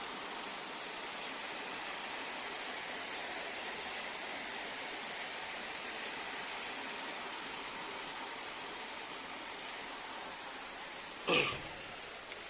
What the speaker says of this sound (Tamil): இங்கே வேறு மழையா வெளுத்து வாங்குது